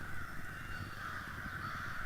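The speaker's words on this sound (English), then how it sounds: "You hear those crows?" A large flock of crows caws loudly from trees at a campsite, a dense, continuous chorus of overlapping calls heard at a distance with no one speaking.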